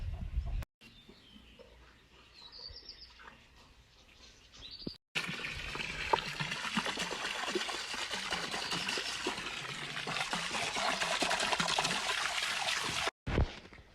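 Water pouring into a backyard pool makes a steady rushing trickle, fairly soft and close, broken by a few brief cuts, with faint birdsong in the background.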